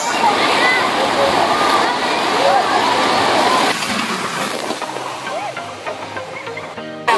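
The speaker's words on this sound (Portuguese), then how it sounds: "Uma praia, na verdade uma piscina, com ondas artificiais." Artificial waves surging and crashing in a water park wave pool, a loud continuous wash of splashing water that eases off partway, with people talking over it.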